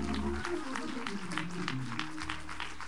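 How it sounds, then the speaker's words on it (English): A church congregation claps hands together in steady rhythm during a worship service, dense and energetic, with music and voices sounding underneath. "One more time, clap your hands and praise him."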